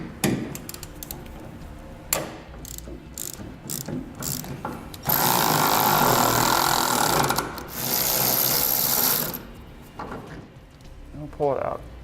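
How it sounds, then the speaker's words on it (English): Ratchet with a 12 mm socket turning nuts inside the wheel well of a truck frame during a 2007 gooseneck hitch install, heard as bursts of clicking with a long steady buzzing run in the middle, speech around it. "We'll use a 12 millimeter socket to remove them."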